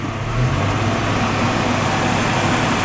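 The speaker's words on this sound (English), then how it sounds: "you hear how the idle went up oh so slightly?" A car engine idles with a steady, loud rumble and a faint hum of headlights on. The idle speed lifts only slightly after a gentle tap of the gas pedal.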